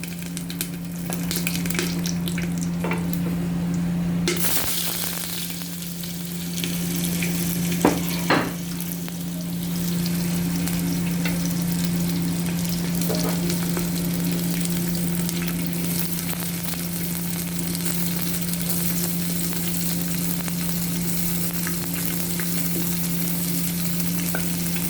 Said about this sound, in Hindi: प्याज को थोड़ा फ्राई करेंगे।